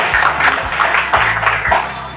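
An audience at a Golkar party anniversary celebration applauds for Agren, a brief burst of rhythmic clapping from a modest group at close range, with a voice speaking over it.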